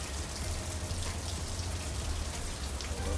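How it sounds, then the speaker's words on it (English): Light rain pattering steadily outdoors, a dense even patter of small drops with a low rumble beneath, continuous and fairly close throughout. "Look at them little bitty raindrops."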